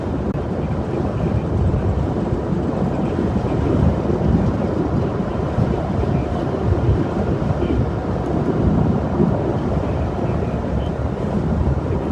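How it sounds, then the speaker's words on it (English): Strong, steady wind from an Iowa derecho storm roars and buffets continuously, a dense low rumble with no letup, close to the microphone. "It's still extremely windy out here"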